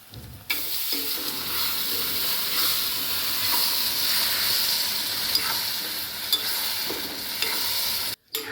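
Onion cooked with tomato, garlic, ginger and green chilli paste sizzles steadily in a pan while a spoon scrapes through it now and then, close up with no talk.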